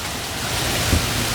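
Thunderstorm with high winds and hail sweeping across US Highway 50 in southeast Colorado: a steady, loud broadband roar of wind and rain, with a brief low thump near the end.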